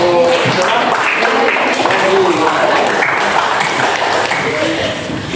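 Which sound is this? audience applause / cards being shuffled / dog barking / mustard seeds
audience applause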